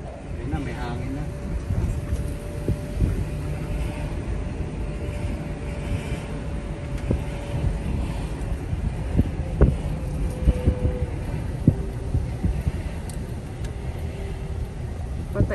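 Steady wind gusts out on a city street in Saskatoon ahead of a tornado warning, a continuous broadband whoosh buffeting the microphone with a low hum running underneath, while people talk nearby throughout.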